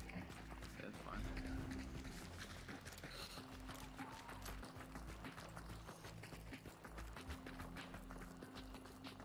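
A horse gallops in Hunt: Showdown, its hooves making a steady rhythmic clatter through the whole clip. The hoofbeats sit under ongoing game noise and faint voices.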